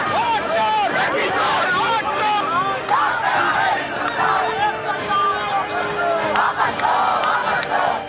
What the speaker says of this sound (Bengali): কয়েক পা এগোতেই দিল্লি পুলিশের ব্যারিকেডের বাধা পেয়ে সেখানেই স্লোগান দিতে শুরু করেন টিম ইন্ডিয়ার নেতারা